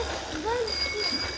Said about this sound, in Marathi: हां गाडीची घंटी